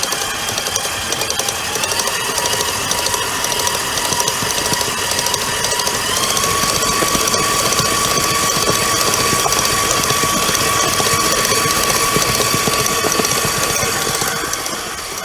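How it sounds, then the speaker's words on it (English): An electric mixer beats brownie batter on high, giving a loud, continuous motor whir whose pitch steps up slightly partway through and holds steady to the end. "Usually what I do is I let it mix, about a minute on high."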